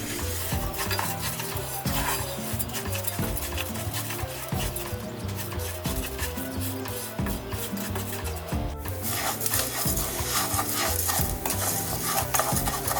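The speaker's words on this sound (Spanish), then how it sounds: "Vamos a impregnar todo el arroz con el aceite." Rice being stirred in hot oil in a pan, a steady scraping, rubbing stir over continuous close sizzling frying, with occasional utensil clinks against the pan throughout.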